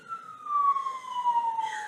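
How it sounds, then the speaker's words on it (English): Emergency vehicle siren passing by, one long wailing tone sliding slowly downward over a couple of seconds at moderate distance, with no talk over it. "let's let this siren pass."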